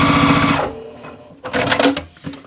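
A sewing machine stitches a checkered improv quilt block, loud and close, with a fast mechanical whir in two bursts separated by a short pause.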